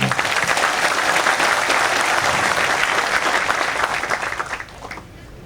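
Audience applause during a talk announcing a drama staging, dense and sustained at close range before thinning and fading out near the end.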